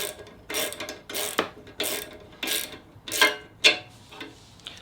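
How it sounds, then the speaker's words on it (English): Bolt with washer and nut being fitted by hand on a spot lamp mount, a run of about seven quick ratcheting clicks in short bursts, close and fairly quiet. "Pop the bolt through with the washer and the nut on the back."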